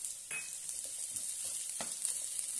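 Finely sliced onion sautéing in oil in a pan, a quiet, steady sizzle with occasional soft stirring taps.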